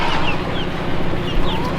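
Chickens on a small ranch cluck in low, broken bursts, with a few higher squawks over a steady outdoor bed of noise that runs through the whole stretch.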